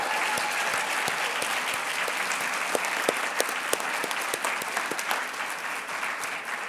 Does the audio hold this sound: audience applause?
yes